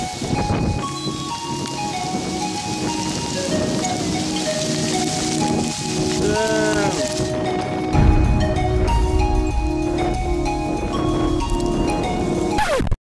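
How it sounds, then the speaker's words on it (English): Hailstones pelt down in Epping Forest, a dense, continuous patter of hard pellets striking leaves and the ground all around, loud and unbroken from start to finish. "Now we're getting pelted by hailstones."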